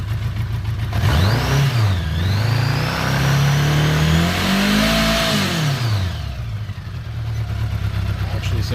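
A 1979 Honda GL1000 Gold Wing motorcycle engine revs up and down several times, loud and close, its pitch climbing and falling with each blip, with someone talking over it.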